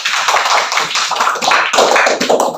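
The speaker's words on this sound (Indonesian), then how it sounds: "Tepuk tangan untuk mereka dulu." Students in a classroom clap loudly and close by in a quick, uneven burst of hand claps that carries on for a couple of seconds.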